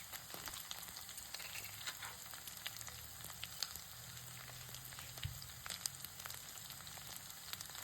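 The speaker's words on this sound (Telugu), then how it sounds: "ఈ అల్లం వెల్లుల్లి పేస్ట్ని పచ్చివాసన పోయేంత వరకు మనం బాగా వేయించుకోవాలి." Ginger garlic paste frying in a pan for a home-cooked chicken fry, a steady low sizzle with scattered small crackles and pops running evenly throughout, no voices.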